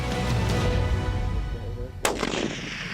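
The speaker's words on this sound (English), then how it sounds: "She shot and put him down like no other." A single loud rifle shot fired during a hunt, a sharp crack with a ringing echo that rolls away, following a few seconds of rumbling outdoor background.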